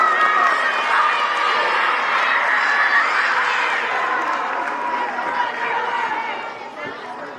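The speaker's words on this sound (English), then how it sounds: "Big round of applause for our English winners." A school crowd at a sixth grade awards assembly applauds and cheers for winners, a loud, continuous wash of clapping, chatter and children's voices that tapers slightly near the end.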